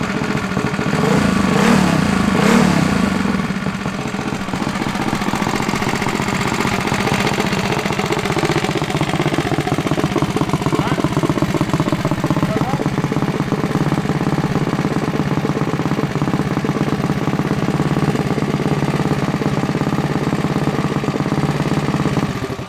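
A Tillotson 236cc racing engine on a mini bike runs close by with a loud, steady mid-pitched drone, revving briefly near the start and then settling into a continuous buzzing idle.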